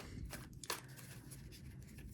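Tarot cards being shuffled by hand, giving a soft, quiet papery riffle with a few brief crisp flicks over a steady low background, with no talking.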